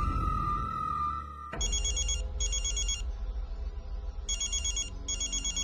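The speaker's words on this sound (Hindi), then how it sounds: "अब किसका फोन?" A telephone rings in repeated electronic bursts with short gaps, loud and close, following a steady tone, in a Hindi television drama scene set near a hospital operation room.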